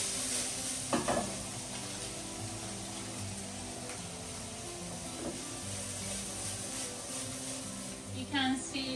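Meat-free mince is stirred in a hot frying pan, a steady sizzle running throughout with scraping stir strokes and occasional spoon clinks against the pan, close and moderately loud.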